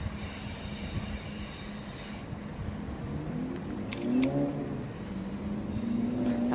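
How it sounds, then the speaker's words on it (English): Train departing Dartford station toward Greenhithe, a steady rumble of wheels and motors building as it pulls away, with rising whine and faint squeals on a platform. "So as that heads off towards this next stop of Greenhithe, this train will skip out Stone Crossing"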